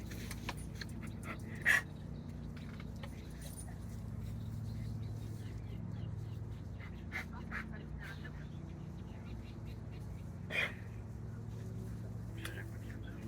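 A dog pants softly and steadily under a background murmur of voices and low outdoor hum, with a couple of sharp clicks.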